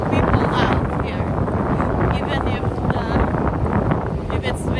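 Strong wind buffets the microphone on a beach pier at White Rock on a cold morning, a loud, continuous roar with no pauses.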